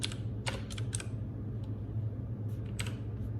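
Computer keyboard keys clatter in a quick cluster of clicks, pause, then resume with a few more taps, close and moderately quiet over a steady low hum.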